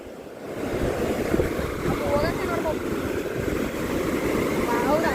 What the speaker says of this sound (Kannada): ಎಷ್ಟು ದೊಡ್ಡ ಅಲೆ ಬಂದೈತೆ ನೋಡ್ರಿ ಇಲ್ಲಿ